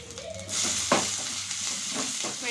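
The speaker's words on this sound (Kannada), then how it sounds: "ಎಣ್ಣೆ, ಸಾಸಿವೆ, ಜೀರಿಗೆ, ಕರಿಬೇವು, ಕಡಲೆಬೇಳೆ, ಶೇಂಗಾ ಕಾಳು ಚೆನ್ನಾಗಿ ಫ್ರೈ ಆದಮೇಲೆ" Mustard seeds, cumin, curry leaves, chana dal and peanuts frying in oil, a close crackling sizzle with a sharp pop near the start and light stirring scrapes, no voices.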